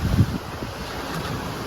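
Wind roars across the microphone over rushing ocean waves as a sailboat crosses the Sea of Cortez, a dense, continuous wash with a few low thumps of water against the hull.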